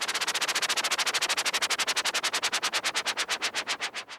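A synthesized whitish noise layer with no plugins, its filter cutoff and LFO rate automated, pulses in rapid rhythmic bursts that gradually slow and spread apart toward the end.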